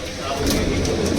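Teddy pigeons cooing in a pigeon loft, soft repeated low coos close by under steady background noise, with someone talking over them.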